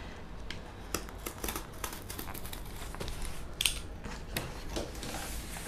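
Close-up snipping and scraping of scissors and a penknife cutting through craft material for a fish costume, irregular crisp clicks and slices over steady low background noise, no talking.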